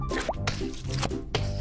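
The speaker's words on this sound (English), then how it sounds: "Peppa and George are doing what they love to do most of all, jumping in muddy puddles" Cartoon pigs Peppa and George jump in muddy puddles, each landing making a wet plop or splash, three or four quick splashes in steady succession, close and moderately loud with no talking.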